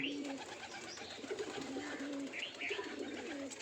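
Soft, low coos of racing pigeons repeat in a steady rolling rhythm, close by, over a faint background hiss with no talking.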